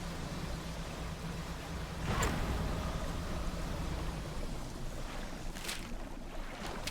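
Boat engine in the video game Dredge runs as a steady, continuous low drone with washing water, holding a constant level throughout with a brief brighter swell near the middle.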